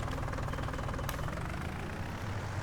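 A farm tractor's engine runs at a steady, close, rumbling idle with a low knocking throb throughout.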